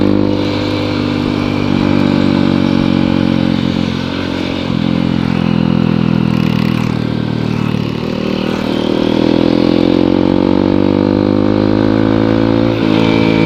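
A motorcycle rides along on the way to a gathering, its engine droning close and loud throughout, the pitch rising and falling as the rider eases off and accelerates again.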